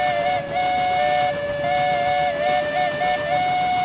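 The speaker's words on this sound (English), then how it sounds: "Your whistle sounds so much cooler than mine." A high-pitched steam locomotive whistle from the Railroads Online video game blows loud and steady, with its pitch wavering slightly throughout, over a hissing background and with no talk.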